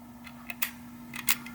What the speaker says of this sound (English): it gives like a little nice little click at the end